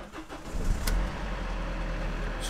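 A Mercedes Sprinter 906 van with newly changed fuel injectors cranks and catches, and its engine settles into a steady, loud low idle with a couple of faint clicks on top.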